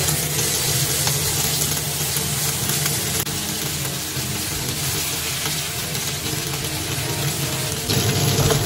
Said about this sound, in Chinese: 用平底锅煎鸡翅